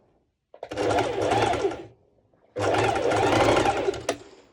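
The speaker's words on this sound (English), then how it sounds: "I'm always checking that I'm really sewing, taking my time, that I'm sewing over the 2 layers equally" A sewing machine runs in two close, loud bursts of rapid stitching with a short pause between, sewing two layers of a sporty mesh-overlay top, a steady mechanical whir with no talking.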